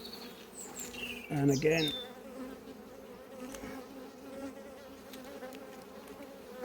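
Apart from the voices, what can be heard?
honeybees buzzing at an open hive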